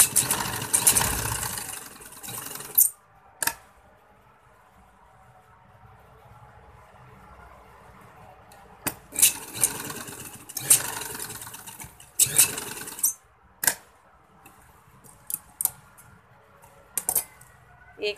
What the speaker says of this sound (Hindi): मैं इसको सिलाई ही लगाने वाली हूँ तो मैं आपको सिलाई लगा कर दिखा देती हूँ।